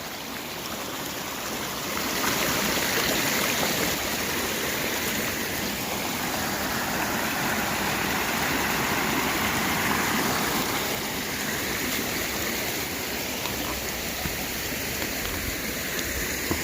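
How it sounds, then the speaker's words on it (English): A steady rushing mountain stream on the Appalachian Trail flows close by, a constant broadband burble of water that swells slightly after a couple of seconds and holds evenly throughout. "That's a stream."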